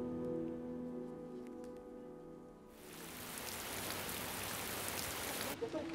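Rain falls steadily during an outdoor June gathering, a dense hiss that starts abruptly partway through after a quieter stretch of low music-like tones, then cuts off sharply near the end.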